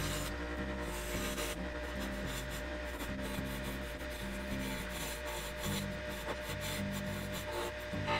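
A wooden leather burnisher is turned on a lathe with a buffer motor clamped to the lathe bed, giving a steady, close rubbing and rasping drone under a constant motor hum.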